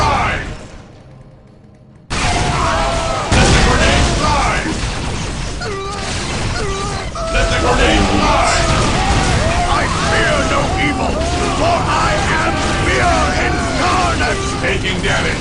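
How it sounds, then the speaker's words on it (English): Grenade blasts and battle chaos in the Warhammer 40,000: Dawn of War strategy game, a sudden loud burst after a quiet start giving way to sustained rumbling explosions, gunfire and clatter with voices over it. "Let the grenade fly!"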